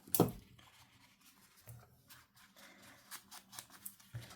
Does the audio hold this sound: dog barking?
no